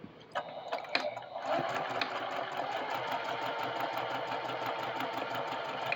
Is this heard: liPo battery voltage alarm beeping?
no